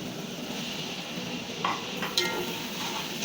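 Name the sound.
stirring tomatoes into chicken karahi with a spoon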